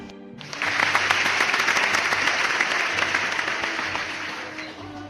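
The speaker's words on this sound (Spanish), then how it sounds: "Recibamos a ambos con grandes aplausos" Applause welcoming two guests rises abruptly after a brief quiet moment, then continues as a dense, moderately loud wash of clapping for a few seconds, with a faint low hum underneath.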